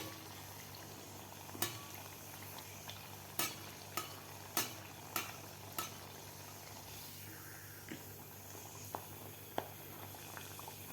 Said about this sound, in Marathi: आपल्याला हे अनारसा तळायचा आहे